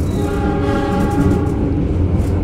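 The Pangrango passenger train pulls away from Cicurug station, heard from close by as a loud, steady rumble of engine and rolling wheels, with a sustained horn tone running through it. Nobody speaks.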